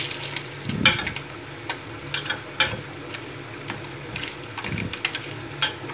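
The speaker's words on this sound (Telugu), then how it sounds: "అలా మొత్తం అంతా కలిసేలాగా కలిపేసుకుంటే మసాలా మొత్తం అంతా పడుతుందన్నమాట" Garlic chili egg curry sizzles in a pan while a spoon stirs it, giving a continuous fry hiss punctuated by irregular scraping and clanking strokes, close and moderately loud.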